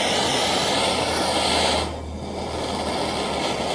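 A torch roars steadily while slowly heating a rusty bolt, a loud broad whoosh that drops in intensity partway through, then continues at a lower level.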